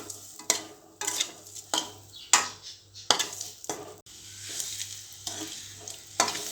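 Boiled eggs frying in masala while being turned in the pan: bursts of crackling sizzle rise and fade in an uneven rhythm with each stir, close up, over a low background hum.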